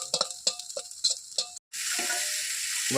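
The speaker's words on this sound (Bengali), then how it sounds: "ছেলের জন্য ডিম আলু আর পেঁয়াজ দিয়ে ভাজা করে দিচ্ছি" Egg, potato and onion go into a pan, preceded by a few sharp clinks and taps of utensils. After a brief silent gap, a steady, close sizzle of frying takes over and continues without talk.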